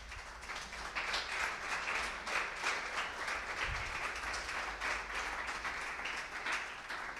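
A church congregation applauds in praise, steady, fairly faint clapping from many hands that continues evenly throughout.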